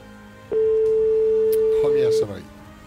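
A single steady telephone ring tone sounds for about a second and a half, clear and loud, with a voice speaking over its end.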